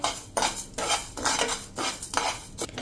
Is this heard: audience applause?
no